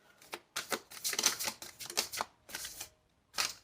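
Large tarot cards are shuffled close up in a series of riffling bursts with brief pauses between them, crisp and papery.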